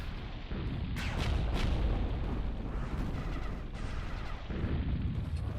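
Repeated explosions boom and crackle in overlapping bursts during a Zero-K real-time strategy battle, a dense, continuous barrage with sharper blasts standing out and no voices over it.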